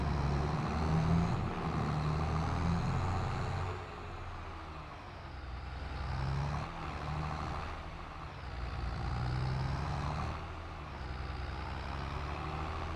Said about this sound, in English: Put this tractor back